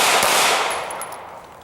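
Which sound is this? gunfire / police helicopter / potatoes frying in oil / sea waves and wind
gunfire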